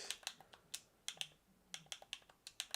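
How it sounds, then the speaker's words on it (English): Quick, uneven keystrokes tapped on a computer keyboard, close and fairly quiet, a dozen or so sharp clicks in irregular bursts with no one speaking. "I'm astounded by how bad this typing is"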